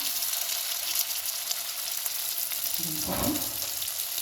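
Peshawari chapli kebabs fry in a pan with a steady, even sizzle throughout, and a brief louder spatter or stir near the end.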